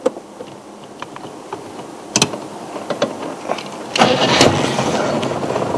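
A safari vehicle's engine starts in the bush: a sharp crank around the middle, then the engine catching and running loud and close, with insect buzz in the background.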